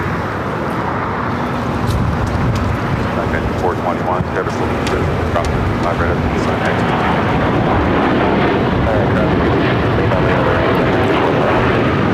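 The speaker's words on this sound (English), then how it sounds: "Flight 8 taking off to Paris on the 787-9 Dreamliner." Boeing 787-9 Dreamliner taking off from LAX bound for Paris: a loud, continuous jet engine roar filling the whole span with broad rumble, heard from the airport side.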